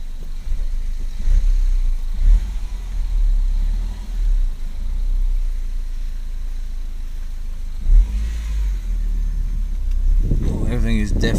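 A car engine with no clutch in use rumbles steadily at low pitch, then swells into a rising rev near the end as the car pulls away.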